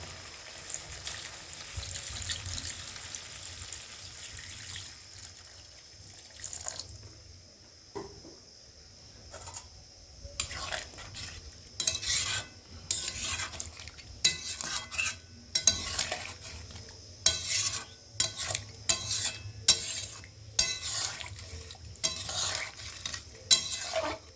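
Water goes into a mutton curry in a pan and gets stirred, a soft hiss and bubbling followed by repeated scraping and clinking of a spoon against the pan, close and moderately loud.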